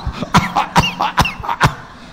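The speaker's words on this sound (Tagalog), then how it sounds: "Kapag inuubo ka na" About five sharp coughs come in a quick, even rhythm, close to the mic, with no other sound around them.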